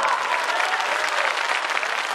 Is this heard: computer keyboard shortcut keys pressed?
no